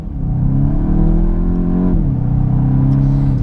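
A 2020 VW Golf GTI MK8 hot hatch accelerates, its engine a loud, steady drone rising in pitch, easing back once as a gear changes, then pulling on continuously with no talk over it.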